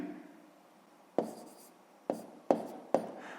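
Pen or chalk strokes writing a math solution by hand, four sharp scratchy taps and short strokes, close and fairly quiet in a calm room.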